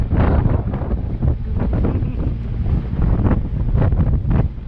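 Strong gusty wind in San Juan buffeting the microphone, a constant rough roar with surging gusts and no voices.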